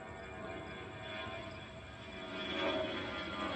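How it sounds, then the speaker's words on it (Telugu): An airplane passes overhead near a park in Dubai, heard as a steady, broad jet roar that fills the whole stretch and swells somewhat louder toward the end, with no talking. "ఈరోజు ఫ్లైట్ కూడా అవుతుంది."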